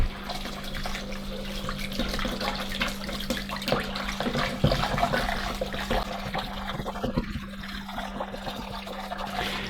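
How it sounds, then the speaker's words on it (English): Running water from a sink tap pours steadily while Karcher K4 Premium pressure washer wheels are washed and scrubbed, a continuous close splashing with occasional knocks and no talking. "let's wash these two in the sink"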